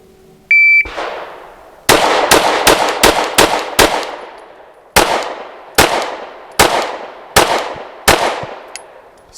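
A Kimber Micro compact pistol fires during a shooting drill: one shot, then a rapid string of five, a pause, and five more evenly spaced shots, each a loud, sharp crack with a short ringing decay. No one speaks over them.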